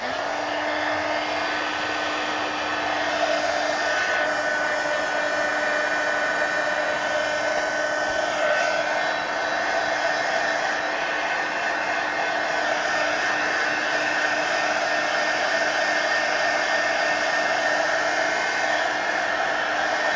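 A heat tool dries a white paint spritz in an art journal, its loud, even whir running unbroken for the whole stretch with a low steady hum beneath.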